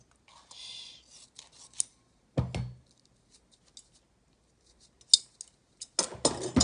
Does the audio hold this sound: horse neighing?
no